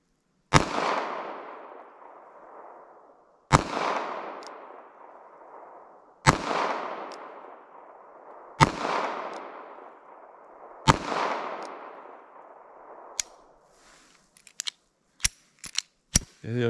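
Five sharp shots from a Ruger LCP .380 pistol fired at a 75-yard target, spaced a few seconds apart with ringing decay after each, followed by fainter clicks and handling knocks.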